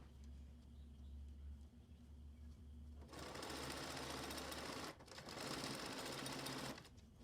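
A sewing machine stitches the long edge of a fabric face mask, running in two close, steady bursts of rapid whirring with brief pauses between.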